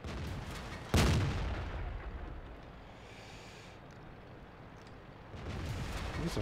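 Tank cannon fire in World of Tanks: a heavy boom near one second with a long rumbling decay, then quieter background and a swelling rumble near the end. No one speaks.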